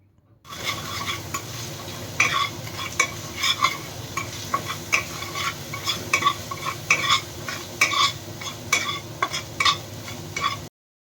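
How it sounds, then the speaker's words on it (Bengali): Spices stirred in a hot pan for a Bengali boal fish curry, with rapid, irregular metallic scrapes and clicks over a continuous sizzle for about ten seconds, and no speech. "এর সাথে ভালো করে একটু নাড়াচাড়া করতে হবে স্বাদ মতো লবণ"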